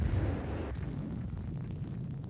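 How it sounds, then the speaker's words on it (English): A V-1 flying bomb strikes the ground in a great explosion, a heavy, deep rumbling blast that rolls on and slowly fades without any voices. "it impacted with the ground in a great explosion"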